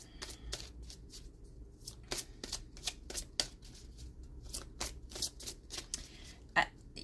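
Oracle cards shuffled by hand, with a run of crisp, close riffles and flicks that come in irregular bursts and are audible over quiet room tone.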